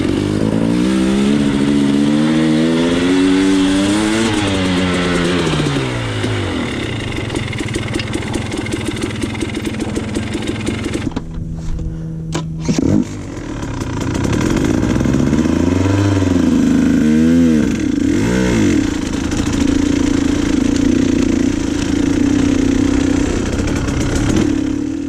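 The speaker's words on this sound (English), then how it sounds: "Give her some gas coming up the hill" A KTM 150 XC-W two-stroke dirt bike climbing a hill, loud and close, its engine rising and falling through repeated revs, dropping briefly near idle midway before pulling hard again.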